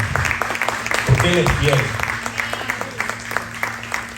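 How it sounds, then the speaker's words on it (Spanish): A church congregation applauds during a Spanish-language sermon on financial anxiety, the clapping steady and moderately loud beneath a preacher's voice speaking over it. "Ahora un aplauso al Señor."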